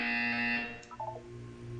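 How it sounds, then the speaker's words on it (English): In the video game Portal 2, a short electronic buzzer tone sounds once, fairly faint, ending in a quick glitchy blip with a low hum beneath. "When you hear the buzzer, look down at the floor."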